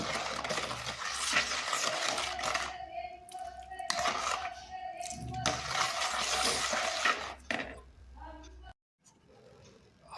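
Homemade brass and copper cleaning liquid of citric acid, salt and baking powder being stirred in a container, with scraping and clinking strokes under continuous talking, then a brief near-silent gap.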